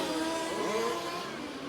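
Race cars roar past on a short oval track during a stock car feature, a dense, continuous engine drone with pitch sweeps as cars close and pass, no talk over it.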